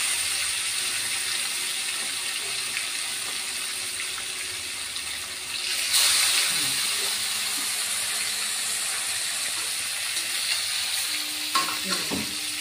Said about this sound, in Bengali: আমি মাছ দিয়ে দিচ্ছি। আমার 2 বারে ভাজতে হবে বন্ধুরা।